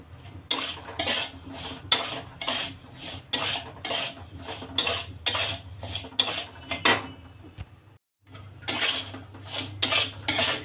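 Metal spoon scraping and clattering against a pan as semolina is dry-roasted over low heat, a steady rhythm of close scrapes and clinks with one brief pause.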